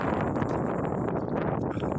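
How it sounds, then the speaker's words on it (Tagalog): Steady roaring southwest monsoon wind in the Philippines buffets the microphone with a constant broadband rush, loud and unbroken throughout. "sobrang lakas ng hangin na habagat dito"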